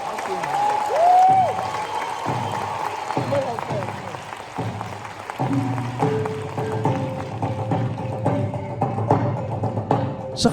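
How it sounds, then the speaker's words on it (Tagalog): Audience applause following a performance by the Kaloob dance group in South Africa: sustained clapping from a large crowd throughout, with a voice talking over it at the start. "lalong sumigabo ang palakpakan ng madla"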